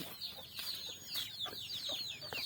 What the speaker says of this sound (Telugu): కోళ్ళు ఇతరుల కోసం చూస్తున్నాయి.